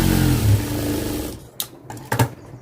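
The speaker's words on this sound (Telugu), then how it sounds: "ఇక్కడ కూడా 1/4 ఇంచ్ పట్టుకొని స్ట్రైట్గా కుట్టు వేసేస్తున్నాను" A sewing machine stitches a straight seam a quarter inch in on a lining blouse, its motor whirring in two short near bursts after a stretch of steady broadband noise.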